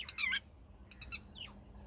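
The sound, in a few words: lapwing calling near its nest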